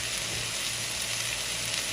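Vegetables and noodles for spicy shrimp lo mein fry in a pan, a steady, even sizzle that holds at one level throughout, close up with no talking.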